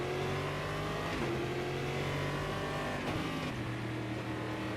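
Stock V8 race car engine in a racing video game at Campo Grande, a throaty burble held steady and loud throughout with slight pitch shifts as the revs rise and fall.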